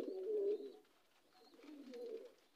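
A racing pigeon coos softly at close range, two low throaty coo phrases separated by a short pause, alone in a quiet setting.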